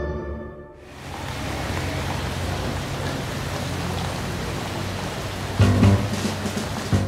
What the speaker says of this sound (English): It starts to rain, and the customers finally start pouring in.